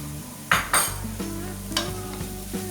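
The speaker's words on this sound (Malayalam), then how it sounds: "ഒന്നുകൂടി നന്നായിട്ട് വഴറ്റിയെടുക്കാം." Crushed ginger and garlic sauté in a hot pan for a spicy mutton roast, with a few sharp scraping stirs over a low, steady sizzle.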